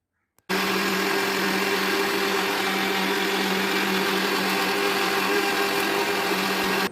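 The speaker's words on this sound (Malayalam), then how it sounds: "മിക്സിയുടെ ജാറിലിട്ട് നമുക്ക് ഈ മുട്ടത്തോടൊന്ന് പൊടിക്കാം." A kitchen mixer grinder runs with its jar full of eggshells, crushing them to powder: a loud, steady motor whine that starts abruptly after a brief silence and holds without a break to the end, with no voices.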